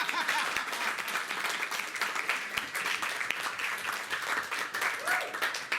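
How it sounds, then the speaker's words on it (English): Audience applause at a stand-up comedy show at Joketeller's Union, steady dense clapping filling the room for several seconds with no break. "I would like a round of applause for that."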